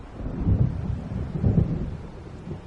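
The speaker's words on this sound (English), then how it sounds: "It seems there's a storm coming." Low thunder rolls from an approaching storm in Alan Wake Remastered, with two soft rumbling swells about a second apart, muffled and distant, with no voices.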